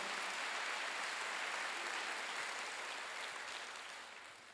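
A crowd claps in sustained applause at a church worship service, dense and steady, then gradually fading toward the end; no voices stand out.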